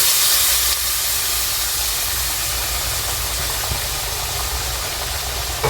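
Blended tomatoes and garlic hit a hot cooking pan, giving a loud, continuous sizzling hiss that holds steady from start to finish with no voices.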